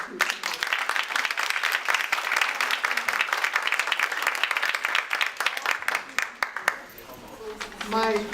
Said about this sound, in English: Let's give a round of applause for these two.